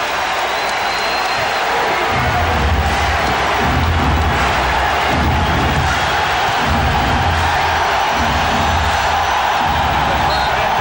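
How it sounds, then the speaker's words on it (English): Large indoor basketball arena crowd during a tense NBA Game 7 between the SuperSonics and Rockets in Seattle, a dense continuous roar of cheering and noise that swells in low pulses and stays loud throughout, no clear talk over it. "got the crowd going crazy like this"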